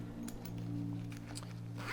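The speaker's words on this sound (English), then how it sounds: "You have a zipper pocket here" A zipper pocket on a Lochby field journal being opened, a brief close zip rasp over a steady low hum.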